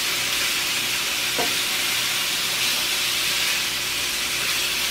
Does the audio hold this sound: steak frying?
yes